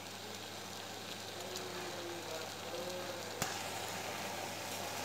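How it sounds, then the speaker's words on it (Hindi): Tamarind pulp with sugar cooks in a pan as a quiet, steady sizzle and low bubbling under a constant background hum, with one sharp click partway through. "आप ये देख सकते हैं मेरा पल्प जो है इमली का वो पकने स्टार्ट हो गया है।"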